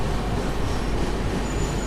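The Narayanadri SF Express pulls out of Singarayakonda station, its carriage rumbling loudly and evenly from inside with a faint wheel squeal.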